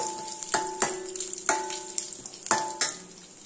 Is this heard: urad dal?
yes